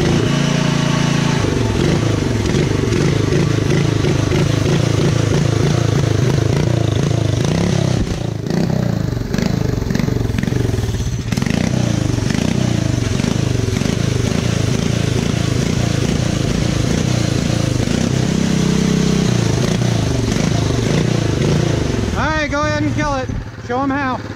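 A small vehicle's engine revs repeatedly under throttle, rising and falling in loud cyclic bursts close to the microphone, with a clattering drivetrain and a voice speaking over it near the end.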